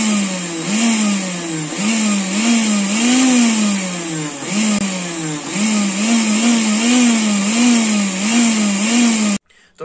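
A kitchen mixer grinder runs loud and close, imitating a sports bike: its motor whine surges up and down in repeated revving pulses for about nine seconds, then cuts off abruptly.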